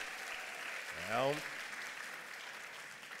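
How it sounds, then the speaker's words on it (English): Diners applauding at a garden party dinner held in a ballroom and courtyard, a soft, steady patter of clapping heard from a distance throughout, with a voice briefly speaking over it. "Let's just give them a round of applause just off the start."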